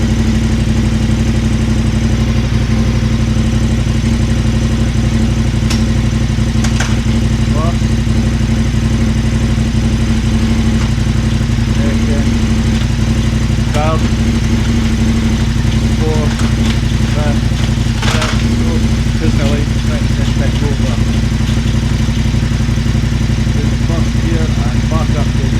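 A KTM 1290 motorcycle engine runs steadily after starting, a loud, constant low rumble with harmonic drone throughout, plus scattered clicks and clatter on top.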